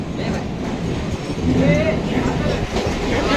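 A train rumbles and clatters along the rails, with a brief wheel squeal as it rolls into a Mumbai station platform; voices chatter in the background.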